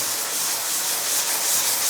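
Steady abrasive scraping of a sanding pad rubbed in circular motion over a plastered sheetrock wall, close up and continuous with slight swells in pressure.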